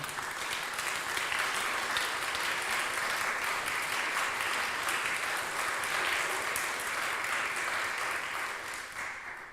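A church congregation applauds the closing song at a Sunday worship service, a broad, steady wash of clapping that holds evenly before thinning slightly at the end.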